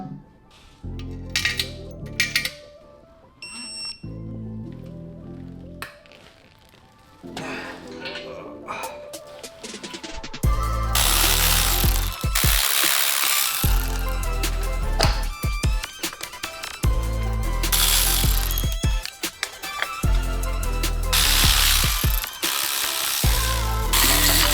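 A ratchet tightens bolts on a BMW E90 M3 engine with quick clicking runs and metallic clinks, growing denser and busier partway through, close to the microphone.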